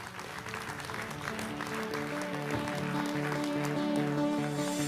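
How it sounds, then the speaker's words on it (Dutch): An audience in a council chamber in Buitenpost applauds during a local election candidates' debate. The steady clapping is moderately distant and plays under sustained music with a tonal melody. "Groot applaus voor Dieneke Terpstra."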